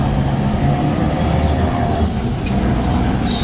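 A tram rumbles loudly past close by in Porto, Portugal, its wheels giving off high metallic squeals toward the end.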